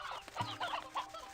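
Stony hen chickens in Slime Rancher 2 cluck in short, choppy bursts against a busy game soundscape, fairly quiet and with no one talking.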